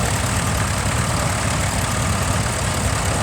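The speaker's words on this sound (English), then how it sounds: "Number 63, an International Harvester, B275 of 1964" A 1964 International Harvester B275 tractor runs in a steam rally tractor parade, its engine giving a loud, steady, close rumble with no break and no talk.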